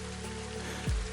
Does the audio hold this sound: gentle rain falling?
yes